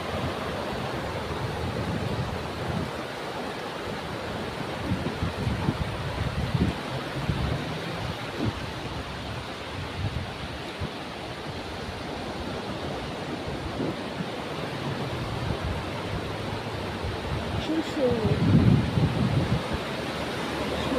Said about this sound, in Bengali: আর এই যে সমুদ্র